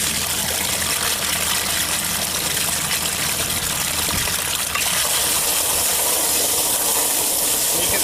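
Water rushes back through a serviced pump valve as an enhancing ring pushes the flow, a steady, loud, close gushing hiss that runs continuously and grows slightly brighter partway through, with no voices.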